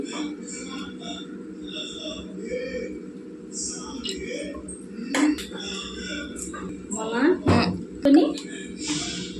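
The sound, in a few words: placing a pot on the stove and pouring oil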